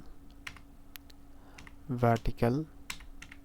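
Keys clack on a computer keyboard as a project name is typed in Adobe Illustrator, a sparse run of quiet, close-up taps with uneven spacing, while a voice speaks briefly over the middle.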